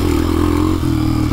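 An old Honda XR dirt bike engine running hard with a steady, loud, rough drone on a trail, close to the listener, with no pause in the noise.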